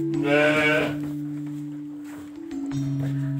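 Sheep bleat inside a pen on a farm raising sheep fed indigofera, two or three close, loud wavering calls overlapping and carrying through, with no talk.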